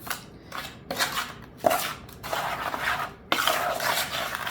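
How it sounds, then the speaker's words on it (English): Melted butter, flour and sugar are stirred together for a rhubarb square crust, giving repeated close scraping strokes and sharp clinks of utensil against bowl in an uneven rhythm, with no talk. "I'm just mixing the melted butter with the flour, sugar, and this is how I make the crust"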